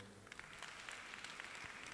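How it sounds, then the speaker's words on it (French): Audience at a conference on women's leadership in education and research applauds, a faint, steady, distant patter of many hands clapping. "Mesdames et messieurs, on l'applaudit."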